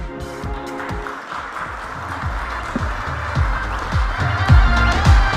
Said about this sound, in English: Please keep the claps going.